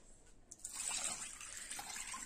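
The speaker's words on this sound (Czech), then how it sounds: "A teď zalejeme vodou." Water poured into a pot over jasmine rice with salt and oil, a steady splashing gush that starts after a brief pause and continues close up, loud and alone.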